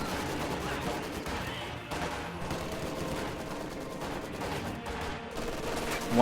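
German MG42 machine gun fire in the strategy game Company of Heroes, steady rattling bursts mixed with other battlefield shots, moderately loud under a layer of ongoing combat noise and commentary.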